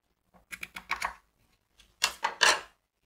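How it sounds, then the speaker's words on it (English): Scissors snipping through crinoline fabric for a child's ball dress: two short clusters of crisp close cuts, four or five quick snips in each, separated by a pause of silence. "cut the crinoline so that it sort of like rests on this bias tape we have underneath. So I'm just going to cut it like this."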